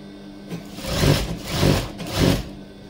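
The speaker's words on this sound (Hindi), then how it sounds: "अभी इसे वापस एक आप लग की सिलाई मारते हैं।" A sewing machine runs in three close, rhythmic bursts of whirring stitching with brief slowdowns between, sewing a folded seam on petticoat fabric.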